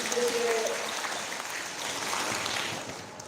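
An audience at a Christmas church worship service applauds, a dense, sustained clapping that fills the room and slowly tapers near the end.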